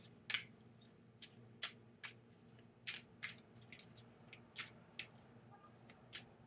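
A deck of cards is shuffled in a series of quick, faint riffling flicks, spaced irregularly over a few seconds against a low background hum.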